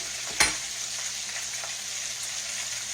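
Whole catfish frying in hot oil in a pan, a steady close sizzle with one sharp pop or stir near the start, no talk.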